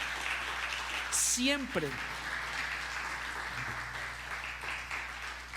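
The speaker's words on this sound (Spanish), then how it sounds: "dale un aplauso fuerte al Señor" Congregation applause in a church service fills the space as a steady broadband wash, with a preacher's voice speaking over it and a brief brighter burst partway through.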